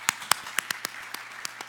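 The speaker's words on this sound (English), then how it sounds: "Another round of applause for our student poets." Scattered, uneven claps from a small audience at an evening poetry event at Kennedy-King College, honoring student poets; about a dozen sharp hand claps spread irregularly over under two seconds, fairly close, with no talk.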